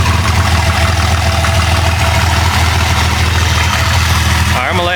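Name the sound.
Jeep Cherokee 4.0 engine idling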